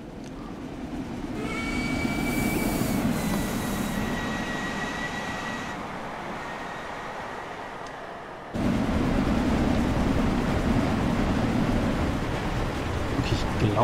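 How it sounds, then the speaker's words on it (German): Steam locomotive train passing by on the Liverpool–Crewe line in the Train Sim World 2 game, a loud rumbling roar with whistle-like tones early on, then a sudden heavier surge of rolling noise as cars go by. "lassen mal den Zug an uns vorbeifahren"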